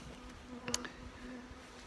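A steady honey bee buzz around hives hums through the whole clip, fairly quiet, with a brief sharper click or knock midway.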